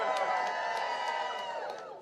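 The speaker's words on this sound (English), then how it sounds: "Let's hear a cheer for everybody here from the..." A crowd of activists cheers and whoops at an outdoor abortion-access rally in Raleigh on the Roe v. Wade anniversary, a sustained dense roar of many voices with scattered shrill shouts that slowly fades at the end.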